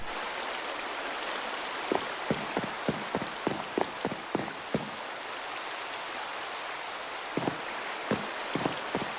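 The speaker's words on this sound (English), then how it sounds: "Raining during the daytime." Steady rain hisses continuously during daytime in the video game Minecraft, with bursts of short, evenly spaced taps rising above the downpour in two clusters.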